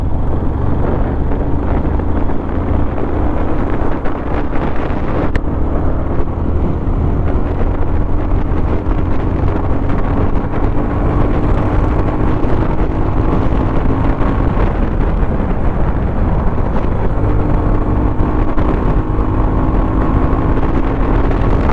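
Yamaha FZ25 BS6 motorcycle on a city ride, pulling from low speed in 5th gear: a continuous engine drone with slowly rising tones under heavy, constant wind rush across the microphone, loud and steady throughout, with no talking.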